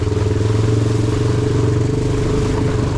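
A Honda Recon 250 ATV engine running while riding in third gear around a barn, a loud, close, steady low thrumming drone with a rapid pulsing firing rhythm and no talking.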